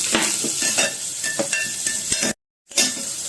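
Star anise, cloves, cumin, pepper, onion and green chili fry in a pan with a loud close sizzle and repeated stirring scrapes, briefly cutting to silence before the sizzling resumes.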